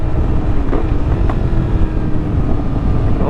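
A motorcycle engine running while the bike is still cold, a loud, steady low rumble heard close through heavy wind buffeting on the microphone.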